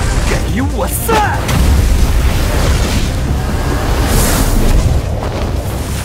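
In the Chinese anime Full-time Magister, a magic wind vortex is blasted apart by a punch. A loud, roaring burst rolls into a sustained rushing whoosh, with brief faint vocal sounds near the start.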